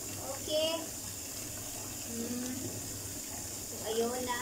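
Tap water runs steadily while a chihuahua puppy gets its first bath, a constant gentle splashing stream with a person speaking over it.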